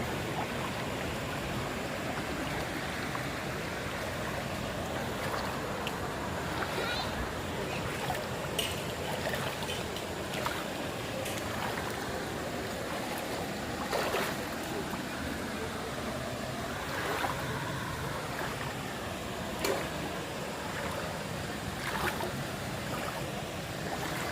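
Stream water rushes and flows steadily while a person wades across a stream on the way to a temple, a constant close broadband wash with a few faint knocks and splashes over it.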